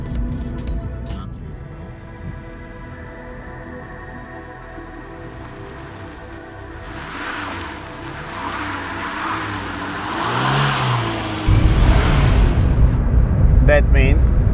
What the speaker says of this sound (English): This is how car stops here. Full brakes.